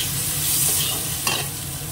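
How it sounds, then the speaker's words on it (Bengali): Chopped tomato stirred into onions frying in a pan, a steady close sizzle with scraping stir strokes throughout and no talking. "টমেটোটা দিয়ে দিলাম।"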